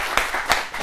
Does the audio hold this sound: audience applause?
yes